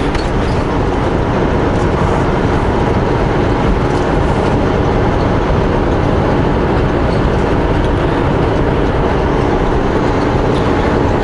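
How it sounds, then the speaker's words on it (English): A Sutco tridem-axle truck, probably hauling hog fuel bark, rolls past on a forested highway, a loud, steady, close rumble with rattling that fills the whole stretch without letup. "That's a Sutco Tridem axle."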